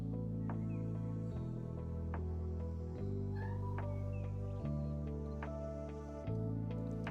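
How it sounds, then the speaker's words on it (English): A cat named Milo meows sadly behind a closed door, several drawn-out meows spaced across the stretch, heard faintly in the distance under a steady, loud electronic hum. "He's really mastered his sad meow."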